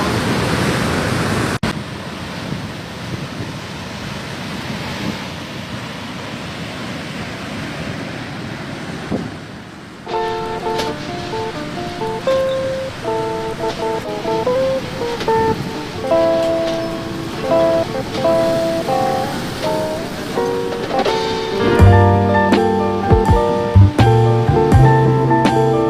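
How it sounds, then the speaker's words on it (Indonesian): Big waves break at Pantai Cinta Kedungu beach at midday during high tide, a loud, continuous roar of surf and wind. Music joins partway through and builds toward the end. "Di siang hari itu ombaknya besar guys"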